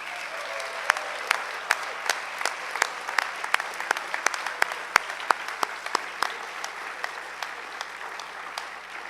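Scattered, moderately quiet applause from an audience at a youth service awards program, with individual sharp claps popping out over a soft, continuous patter of hands.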